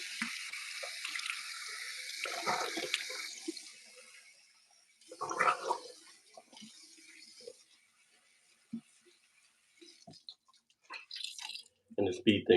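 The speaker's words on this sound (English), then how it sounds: "Now I'm going to rinse off with cool water." After a full-beard shave with a vintage Gillette Slim Adjustable safety razor, cool tap water runs and splashes in short bursts as a face is rinsed, with quiet pauses and dripping between.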